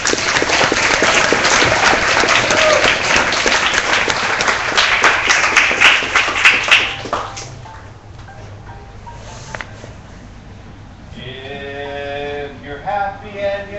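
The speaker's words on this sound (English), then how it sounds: "let's put our hands together" Audience applause welcoming Scott Friedman onstage at a Kickstart.my event in March 2014, a loud, dense burst of clapping that thins out after about seven seconds, followed by a few scattered claps and a brief vocal sound near the end.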